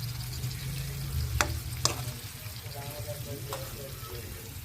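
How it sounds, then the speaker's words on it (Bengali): Pieces of katla fish sizzle steadily as they fry in spiced oil in a pan, with a few sharp clatters from utensils near the middle and no talk. "এবার 3 পিস মাছ দেওয়া হবে, সেই 12 কেজি ওজনের কাতল মাছের টুকরা"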